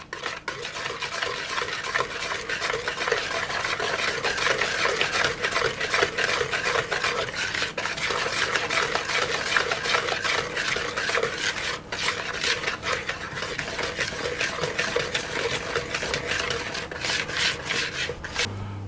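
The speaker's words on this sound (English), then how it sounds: "I'll add in my flour mixture and I'll mix that through as well" A spoon or spatula works flour into oatmeal cookie dough in a bowl, giving a continuous close rasping, scraping churn with steady rhythm and small clinks of utensil on the bowl, without any voices.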